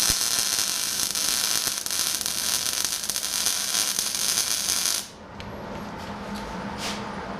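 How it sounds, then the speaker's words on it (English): A welder lays spot tack welds on a diffuser plate for a radiator diffuser on a tube chassis front end, a loud crackling hiss held steadily for about five seconds before cutting out to a quieter background. "keep this kind of same little spot tack welds down on this diffuser plate"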